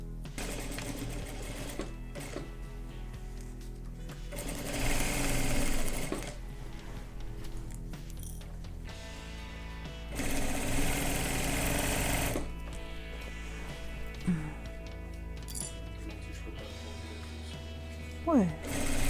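A sewing machine topstitches a fabric bag in several bursts, its rapid mechanical rattle rising and falling, with quieter handling noises in the pauses.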